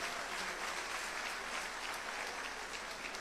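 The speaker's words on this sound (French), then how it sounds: "Il faut les applaudir." A crowd claps at an Ivorian opposition political meeting, with dense, continuous applause that stays steady and fairly distant throughout, without a clear voice on top.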